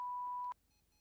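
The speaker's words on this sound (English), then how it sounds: "Leave a message at the beep." A single clean voicemail beep from a phone in GTA V roleplay, a steady mid-pitched tone lasting about half a second, then near silence.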